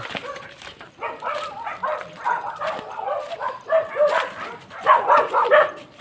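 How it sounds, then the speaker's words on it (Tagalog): Several dogs bark and yip repeatedly at a moderate distance, the barking growing louder and more frantic toward the end. "ang daming tahulan ng mga aso dyan"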